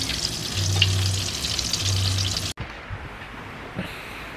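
Dried danggit fish fries in a pan with a dense, loud close sizzle and spatter for a few seconds, then an abrupt cut to a quieter room with faint low rumbling.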